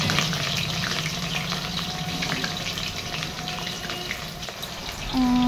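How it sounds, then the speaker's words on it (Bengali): Potatoes fry in oil in a covered pan, a steady close crackling sizzle throughout, with a faint low hum and a short tonal clink near the end. "এখানে আমি আলুগুলো মোটামুটি ভাজতে দিয়ে দিয়েছি।"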